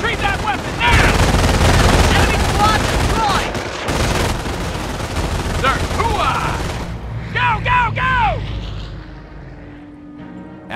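Rapid bursts of rifle and machine-gun fire in the World War II strategy game Company of Heroes, loud and close, with shouted voices over the shooting.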